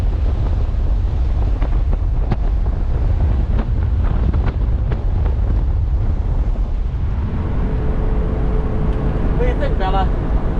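Wind at Holtville hot springs in California roars in constant heavy gusts, buffeting the microphone loudly from start to finish.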